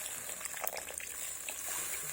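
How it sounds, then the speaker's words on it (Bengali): Water poured into a pan of spicy soybean curry as it cooks: a soft, steady splashing pour lasting about two seconds, fairly faint and close, with no speech. "এবার আমি পরিমাণ মতো জল দেব।"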